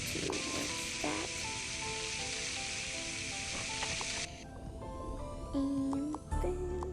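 A dental water spray hisses steadily while rinsing a patient's teeth, a bright continuous spray that cuts off partway through, leaving quieter clinic sounds and faint tool squeaks.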